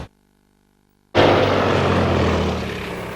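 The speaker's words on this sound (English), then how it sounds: "as a plane, it's a beautiful aircraft to fly, highly manoeuvrable, fully aerobatic" A propeller-driven aerobatic plane roars in abruptly after near silence, its engine drone loud and close and then easing slightly as it continues.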